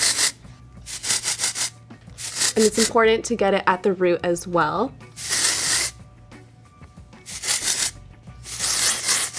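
Bumble and Bumble thickening dry texture spray hisses onto hair in several sharp bursts at an even pace, while someone speaks briefly between the sprays.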